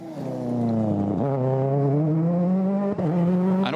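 Robert Kubica's rally car speeding along an icy stage of Rally Monte Carlo, its engine revving loud and close, climbing in pitch through gear changes with brief dips between shifts.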